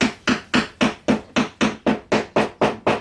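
A screwdriver used as a heavy tool taps wooden parts of a small mini-Jules robot kit into place, giving eleven sharp, evenly spaced knocks that repeat steadily about every quarter second, close and loud with no voices.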